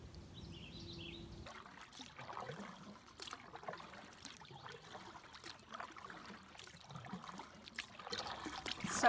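A paddle dips and pulls through calm water, giving soft trickling and splashing strokes that repeat irregularly and grow a little louder toward the end, with birds faintly audible at the start.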